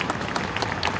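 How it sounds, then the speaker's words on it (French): A crowd at an outdoor far-right rally in tribute to a young man named Thomas, clapping in a brief, steady burst of applause with no voices over it. "Donc allez, on s'applaudit"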